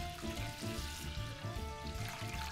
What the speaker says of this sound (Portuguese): É a água que a gente separou, para esse aqui, a gente coloca tudo aqui, ó. Água quente.